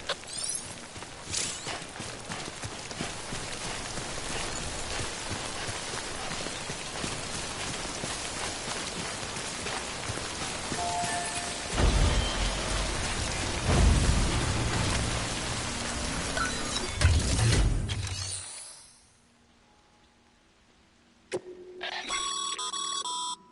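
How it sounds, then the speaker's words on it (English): Steady heavy timefall rain from the video game Death Stranding, a dense hiss pouring down for most of the stretch before cutting out, then a few faint game tones in near silence. "Don't stay out in the rain any longer than you have to."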